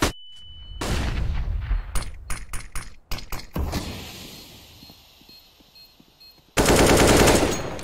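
Rapid bursts of automatic gunfire from the video game CS:GO, several sharp volleys in quick succession followed by a sustained loud stretch of shooting near the end, with game ambience between bursts.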